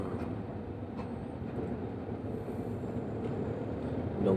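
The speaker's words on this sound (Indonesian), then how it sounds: "Kereta cepat katanya." A Jakarta MRT train passing, a steady low rumble and rolling hum at moderate distance that holds evenly for a few seconds and swells slightly at the end, with no speech.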